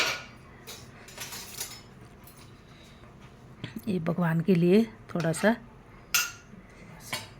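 Utensils clink against plates as rice and other food are served, first a small portion and then a plate for the husband, including a glass thali. The clinks come in short bursts while someone talks over them.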